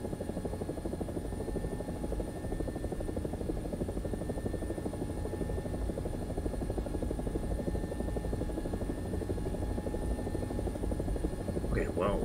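A helicopter in a video game whirs with a steady, even rotor buzz and droning hum lasting throughout, moderately loud and continuous, with a faint brief extra tone near the end.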